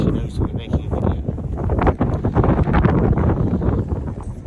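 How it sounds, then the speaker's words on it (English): Cold, gusty wind buffets the microphone outdoors near a forest along Germany's Fairy Tale Route, a loud, rumbling roar that swells and dips continuously with faint rustling underneath. "It's got windy. It's windy."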